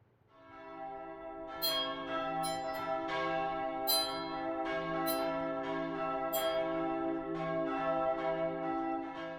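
Metal spoons hanging on a string like a wind chime are struck, giving bright bell-like clangs that ring out and sustain in a rich, layered resonance, heard close and loud.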